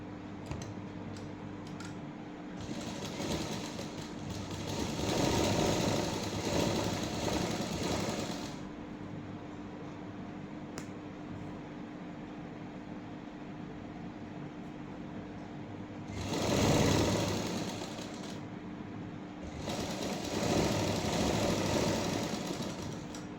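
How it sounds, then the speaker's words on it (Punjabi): Sewing machine stitching lining into a garment sleeve, with bursts of fast mechanical running that start and stop over steady room hum, the longer runs separated by quieter pauses. "ਹੁਣ ਆਪਾਂ ਆਹ ਵਾਲੀ ਸਲਾਈ ਇੱਧਰ ਦੀ ਕੱਢਾਂਗੇ"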